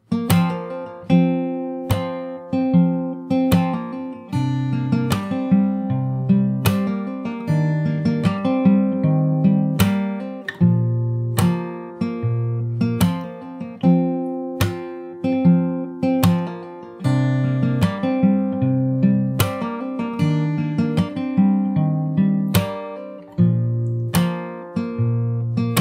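Fingerstyle acoustic guitar plays the verse of a song, plucked bass notes under a steady melodic line with crisp attacks in an even pulse, close and solo with no voices.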